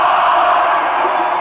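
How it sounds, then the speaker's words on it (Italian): A stadium crowd roars and cheers in the football game My Football during a Hungary vs Japan match, a steady dense wall of fan noise with no clear voices. "sentite che tifo"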